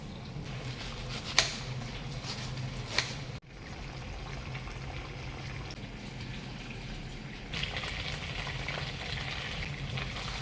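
Chicken fries in a pan with onions, a steady low sizzle close by with a few sharp clicks and clatters of a utensil, and a brief dip before the frying hiss resumes.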